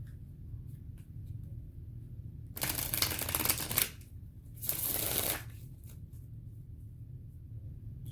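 Tarot cards shuffled in two brisk bursts of riffling, close and clear, separated by a short pause over a low steady background hum.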